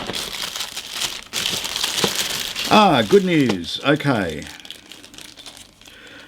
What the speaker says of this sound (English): I have a little plastic bag here and it contains 4 tyres